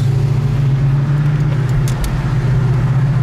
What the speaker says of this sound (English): to my ears, there's nothing like the V8 sound.